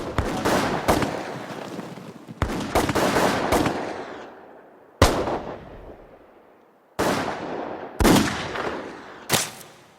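Rifle volleys from a firing squad at an execution: about six sharp, loud bursts of gunfire spaced unevenly over ten seconds, each ringing out into a decaying echo, with no talk between them.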